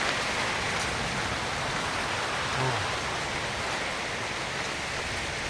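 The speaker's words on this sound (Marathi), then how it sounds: "पावसाला सुरुवात झाली" Rain falls in a steady, even hiss across the whole stretch, with a brief faint tone partway through, during the first rain of the season in a village in Ratnagiri.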